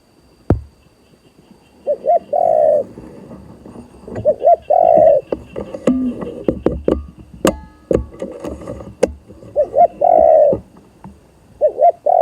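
A spotted dove coos in repeated soft phrases, close and fairly loud, with scattered clicks and knocks between calls and no talk.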